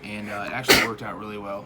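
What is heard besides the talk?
sneeze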